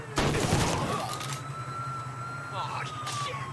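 Gunfire in Mafia III Definitive Edition, set in 1960s America: a burst of shots up close, a wailing police siren, a second short burst, and someone shouting.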